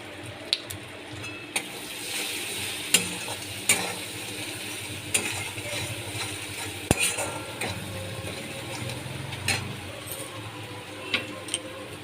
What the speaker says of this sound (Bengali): ভালো করে কষিয়ে নিচ্ছি স্বাদ মতো নুন দিয়ে দিলাম